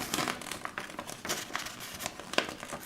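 A large paper instruction sheet for a Takara Tomy Transformers Masterpiece MP-29 Shockwave toy is being handled, giving soft, close, irregular crinkles and rustles in short bursts, fairly quiet, with no talking.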